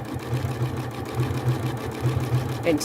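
Janome sewing machine stitching a hand-look quilt stitch, with a low mechanical whirring that pulses in short rhythmic runs as the fabric is fed forward and back, fairly close, with a voice talking faintly alongside.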